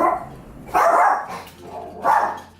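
Pet dog barking indoors, three hoarse muffled barks spaced irregularly, fairly close and fading between each.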